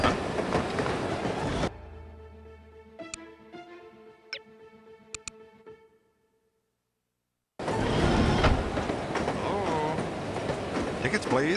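A moving train in the video game No One Lives Forever rumbles and clatters loudly, cut by a stretch of quieter spaced clicks and a brief silence before the rolling rumble returns.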